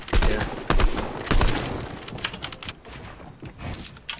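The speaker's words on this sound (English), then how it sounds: "Oh wait, they're shooting at you?" Bursts of gunfire in a Fortnite duos match, several sharp shots early and then scattered lighter pops, close and loud.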